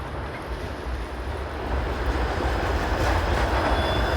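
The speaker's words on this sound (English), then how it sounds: "There goes a 501 Queen streetcar." A 501 Queen streetcar rolls past on a cold, rainy Queen Street East in downtown Toronto, a steady rumble of wheels on rail growing louder as it nears, over wet street hiss, with no talking.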